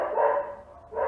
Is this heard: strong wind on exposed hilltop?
no